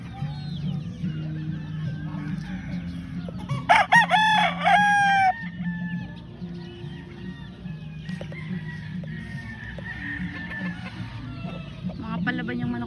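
Fighting roosters crow loudly near by, with one strong burst in the middle, while chickens cluck around them among other farm animals; faint voices sit in the background.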